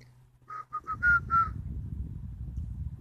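A person whistles a few short, clear notes of a tune outdoors in a cemetery in Arlon, the notes stopping after about a second and giving way to a low rumbling background.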